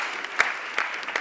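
A brief burst of applause from a comedy show audience, with a soft diffuse patter of clapping and a few sharper individual claps standing out over roughly a second.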